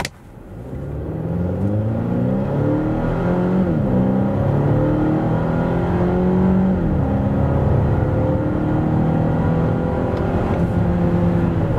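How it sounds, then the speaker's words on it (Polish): A 2024 pre-facelift Volvo XC90 B5 mild-hybrid SUV with 250 hp pulls hard from standstill to 100 km/h. The engine note climbs steadily through the gears, loud and continuous from inside the cabin, with no talking. "Tak auto przyspiesza od 0 do setki."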